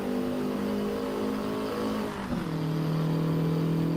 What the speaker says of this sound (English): the engine sounds definitely better than GT7